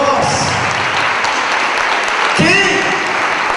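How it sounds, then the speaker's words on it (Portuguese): Church congregation clapping in praise during a Portuguese evangelical sermon, a steady dense roar of applause throughout, with a brief voice cutting in near the end over the clapping. "aplauda o Senhor, que Ele é digno"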